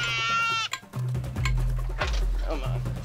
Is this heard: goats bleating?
yes